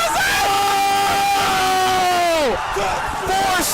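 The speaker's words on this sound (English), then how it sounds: "And the crowd cheering for a 4-stock." A packed Super Smash Bros. Melee esports tournament crowd roars loudly and without a break, while a voice yells long drawn-out shouts over the din.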